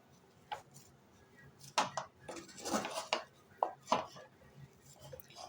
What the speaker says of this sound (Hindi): और अब आपने चम्मच लेकर ये देखें इस तरह से इसको मिक्स करना है।